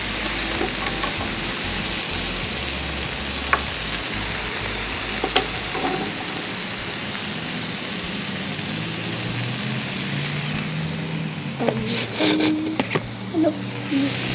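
Food frying in a pan gives a steady, dense sizzle throughout, close and continuous, with a few faint clicks and stirring knocks toward the end.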